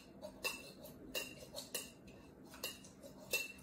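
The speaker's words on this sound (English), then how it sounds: "we want to give everything a good muddle" A cocktail muddler pressing pineapple and other fruit in a glass makes sharp clinking knocks at an irregular pace, about eight strikes, quiet and close, with no talking.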